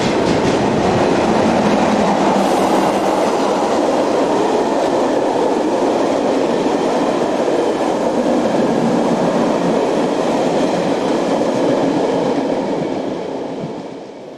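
Swiss Class 101 locomotive 101963 heads the narrow-gauge Brunig Panoramic Express past at close range, a loud, continuous rumble of wheels and carriages with steady clatter that holds for over ten seconds before starting to fade.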